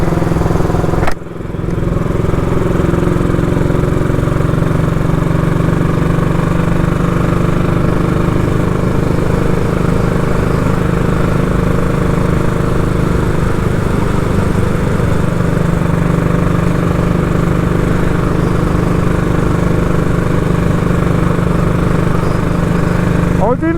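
A Royal Enfield motorcycle engine drones steadily and closely throughout a ride, with a low, even rumble and faint clatter and no break in the running note.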